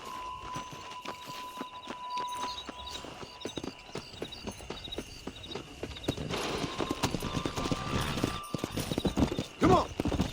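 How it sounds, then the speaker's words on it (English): A horse's hooves clop in a steady rhythm in Red Dead Redemption, rising into a faster, louder gallop later, with faint voices and a brief whinny-like burst near the end. "I'll show you how we ride around these parts."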